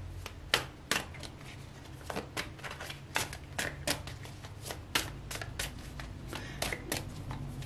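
Tarot cards shuffled by hand in a steady run of crisp riffling snaps and soft flutters, close and fairly quiet, with no voices over them.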